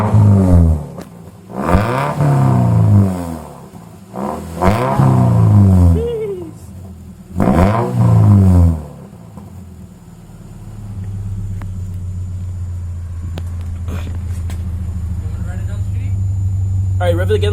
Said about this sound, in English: rev it again a little bit